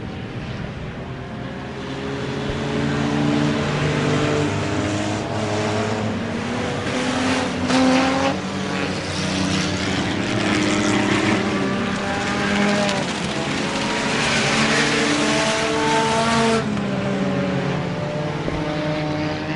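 Race cars roaring around a dirt track during an enduro race, a steady loud engine drone with rising and falling passes over the whole stretch.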